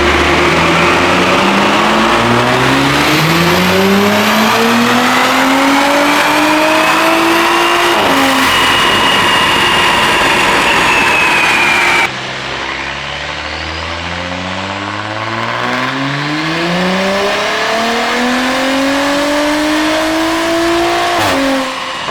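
An Audi B9 S4 fitted with an IE high-flow catted downpipe accelerates hard through several gears, the engine note climbing steadily with brief dips at each shift, loud and close throughout.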